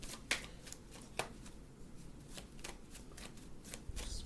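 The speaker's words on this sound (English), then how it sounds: "so we're shuffling, yes," Tarot cards are shuffled by hand in quick, soft riffling bursts, a series of close, crisp flutters with brief pauses between them and no talking.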